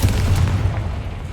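Confringo blasting spell in Hogwarts Legacy going off as a single deep, booming explosion up close, the thud decaying into a rumbling tail.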